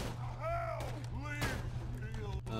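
Gunfire from a scoped rifle in the video game Borderlands 2, a few sharp shots with swooping tonal effects over a steady background hum.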